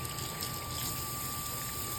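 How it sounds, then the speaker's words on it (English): Water runs steadily from a sink tap in a pottery setting, a constant soft hiss with a faint high tone, no voices over it. "So now we're gonna go over here to the sink"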